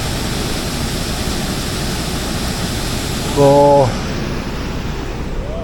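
Water rushing through an open canal lock gate to fill the pound, a loud steady broadband roar throughout, with a brief voice heard over it near the end.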